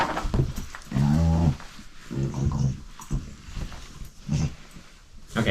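A pet dog growls and whimpers indoors in a few short, close bursts of whining, with quieter gaps between them.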